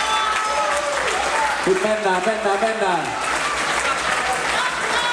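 Spectators at a strongman competition applaud and cheer steadily, a loud crowd roar throughout, with someone speaking over it.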